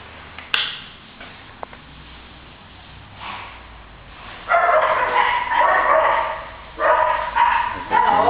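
A dog upstairs in a house barks and yips in a few short bursts, moderately loud and a little distant, separated by quiet stretches with some faint room noise.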